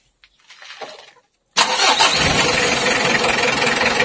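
A car engine cranks briefly, goes quiet, then fires and catches at once, settling into a steady loud idle that continues for the rest of the moment.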